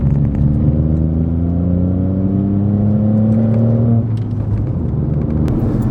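Rebuilt Ford Fiesta MK7 with a 1.0L EcoBoost engine heard from inside while driving, a loud, steady engine drone with rising pitch as it accelerates, then easing off into a lower rumble with road noise.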